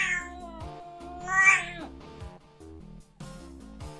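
In a video game under test, a cat character's angry meow plays repeatedly: short, clear, tonal yowls rising and falling over a background of game music.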